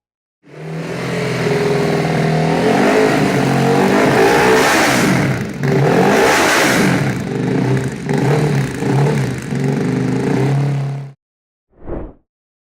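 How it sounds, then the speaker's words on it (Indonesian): A Ducati motorcycle with a dry clutch and desmodromic valves, painted blue, revs hard and close for about ten seconds, its engine note rising and falling in repeated throttle blips, then cuts off before one short final blip. "seberapa ngeri dan gaharnya tenaga motor yang satu ini, kita punya beberapa sampel sound"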